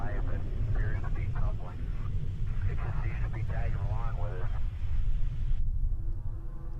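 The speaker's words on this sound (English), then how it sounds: "the sound of almost like a jet flying over" A jet-like roar dubbed over UFO footage holds as a steady low rumble throughout, with people talking over it and the sound dropping away abruptly near the end.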